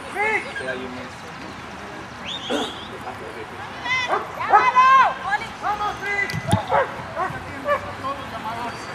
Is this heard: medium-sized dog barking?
yes